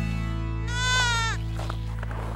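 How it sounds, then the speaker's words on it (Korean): A newborn lamb bleats once, a loud, wavering cry close by among a flock of sheep and goats on a winter mountain, set over a steady low hum. "새끼 양입니다."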